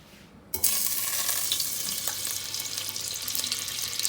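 Butter sizzles loudly in a pot for popcorn, a steady broadband hiss that starts abruptly and keeps crackling under occasional stirring, close and continuous with no voices.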